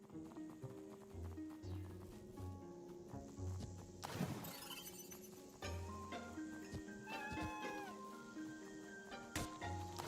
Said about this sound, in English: I hear you, kitty.